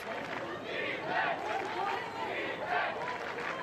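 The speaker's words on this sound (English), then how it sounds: "You can hear the crowd starting to get engaged, shouting for the defence" A crowd at a TWG2022 ultimate frisbee match cheers and shouts for the defence, a continuous roar with swelling peaks beneath ongoing talk from a commentator.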